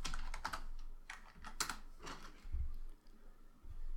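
Fingers type on a computer keyboard in short bursts of crisp key clicks, close and fairly quiet, with brief pauses between runs.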